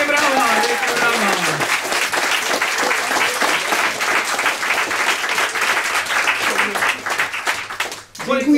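Loud, sustained audience applause fills the room at the close of the theatre performance "8 wspaniałych", dense clapping running steadily with a brief dip near the end, while voices call out over it.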